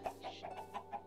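Chickens cluck in the video game Minecraft, giving a quick series of about five faint, short clucks in a row with no talking over them.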